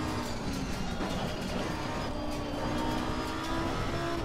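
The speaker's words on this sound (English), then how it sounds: "you can hear all the rattles and everything like that in the car" Steady racing car engine drone from the video game Assetto Corsa Competizione on PS4, with constant mechanical rattling and buzzing throughout, fairly loud and continuous, no voices.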